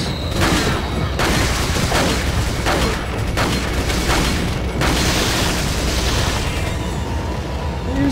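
Repeated grenade blasts and gunfire in Resident Evil 4, a steady run of sharp booming explosions every second or so over a constant loud din of combat, no voices.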